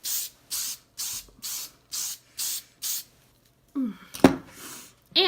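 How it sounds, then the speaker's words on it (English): Seven short, even bursts of aerosol hair spray misted onto curls for beach waves, close and crisp with brief pauses between, followed by a few softer handling noises. "So I'm just gonna give them a light spray."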